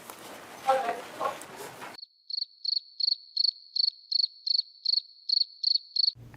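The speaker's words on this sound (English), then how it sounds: "I just had to use the cricket sound" Cricket chirping sound effect played during a live broadcast hearing, a clean, evenly spaced series of about a dozen shrill pulses alone, after a brief stretch of talk.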